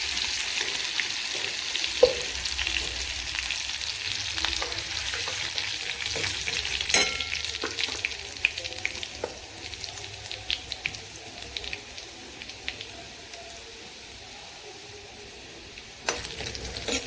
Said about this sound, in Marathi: जिरे कडकडलेत, आता लसूण टाकून घेते त्याच्यामध्ये